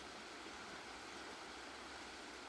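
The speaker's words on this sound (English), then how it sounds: "There's the creek" Creek water flowing steadily near a campsite, a continuous close rush of broadband burbling and hiss with no pauses, no voices over it.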